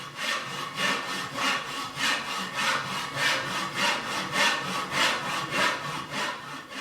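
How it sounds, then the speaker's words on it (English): A hand saw cuts through the wooden neck blank of a Spanish guitar to remove the headstock, with even back-and-forth strokes in a steady rhythm, close and clear. "When you've cut off the headstock"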